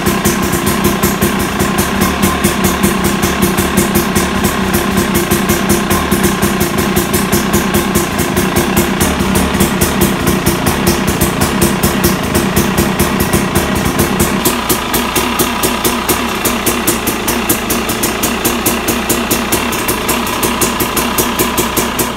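A motorcycle engine idles loudly and steadily up close, its rapid even pulsing unbroken throughout, the tone dropping slightly partway through.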